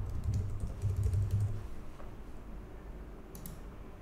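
Password being typed on a computer keyboard, with a short run of soft key clicks early on that trail off into faint room noise, no talk.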